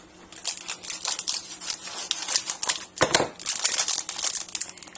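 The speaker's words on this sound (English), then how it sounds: "So I'll get some different scissors." Scissors snip and crinkle through the plastic package of pre-sliced mozzarella in a home kitchen while making meat lasagna, a close series of sharp cuts and rustling wrapper sounds with no talk.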